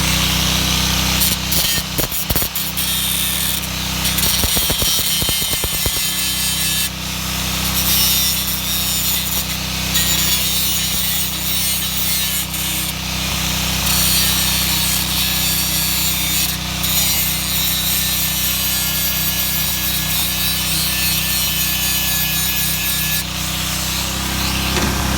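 An angle grinder powered by an old abandoned generator gives a loud, sustained grinding rasp over the generator engine's steady droning hum, with a few sharp scraping bursts early on.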